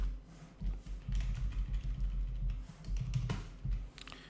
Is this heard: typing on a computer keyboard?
yes